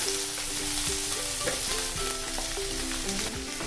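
Finely chopped onions with green chili sautéing in a pan make a loud, dense, continuous sizzle, close up and alone, with brief scraping stirs throughout.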